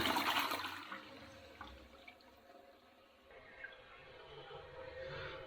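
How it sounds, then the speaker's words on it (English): A newly fitted toilet in a Bulgarian home gives a short rushing flush that fades into quieter trickling and dripping as the bowl refills, heard close and moderately loud. "Let's give it a flush."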